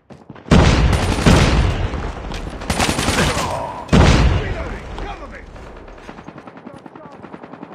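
A grenade explodes in a video game firefight: a loud, close blast hits early, another heavy burst follows a few seconds later, then the rumble decays into scattered gunfire and a faint voice.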